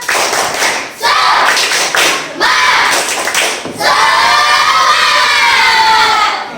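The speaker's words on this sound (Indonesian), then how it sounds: "sekarang untuk menambah semangat kita, ya tepuk semangat" A group performs tepuk semangat, a rhythmic spirit clap, loud and close: bursts of clapping alternate with shouted chant syllables from many voices, including children, in short repeated phrases separated by brief gaps.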